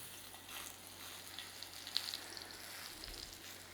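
Mushrooms sit gill side down in olive oil in a pan, giving a soft, steady sizzle and crackle with a few faint pops, quiet and without speech.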